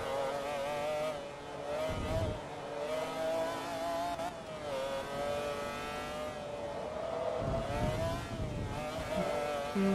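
A McLaren F1 road car's engine in Forza Motorsport 2, a steady high-pitched droning whine that rises and falls with throttle and gear changes, continuous and moderately loud.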